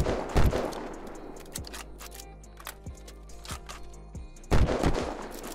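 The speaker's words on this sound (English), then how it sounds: "Let's try to shoot this one here." Gunshots in the Unturned video game: a sharp loud shot opens, several fainter rhythmic shots follow about a second apart, and a closing burst of loud fire lands near the end.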